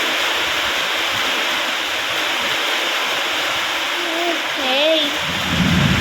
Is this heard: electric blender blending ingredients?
no